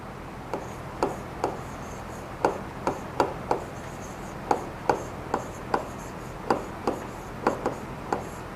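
Chalk tapping and scratching on a classroom board during a maths lesson, a series of sharp close clicks in irregular bursts over a steady background hiss, with no speech.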